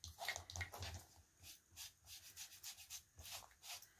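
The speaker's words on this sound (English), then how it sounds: "So I'm going to come in with just my little kitchen sponge that I like to use" Kitchen sponge rubbed over a small wooden sleigh from a dollar store, a soft rhythmic scrubbing swish repeated in steady strokes, close and fairly quiet, no talking.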